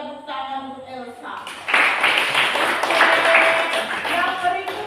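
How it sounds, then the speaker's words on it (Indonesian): A classroom of students claps for a classmate, a burst of quick scattered applause that rises suddenly and carries on evenly, with a teacher's voice speaking just before it starts. "tepuk tangan untuk Elsa."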